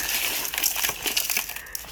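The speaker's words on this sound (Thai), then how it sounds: "ขยำให้มันเข้าเนื้อไปเลย" Hampala fish is kneaded by hand with coarse salt to make pla som fermented fish, producing a continuous close, wet, gritty squelching and crunching with no pauses.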